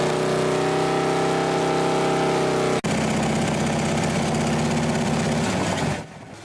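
Motorcycle engine running loud and steady at idle, with a low rumbling drone and a brief cut midway before it resumes, then fades at the end; the same bike is compared under residential noise limits.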